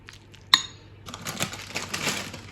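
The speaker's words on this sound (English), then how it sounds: "So I'm just stirring that in." A spoon clinks sharply once against a bowl, then scrapes and stirs cooked bacon and mushroom filling in soft, irregular, close-up swishes.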